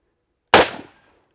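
A single loud, sharp gunshot from a Ruger Redhawk .44 Magnum revolver fired single action at a range, cracking sharply and then decaying quickly over about half a second.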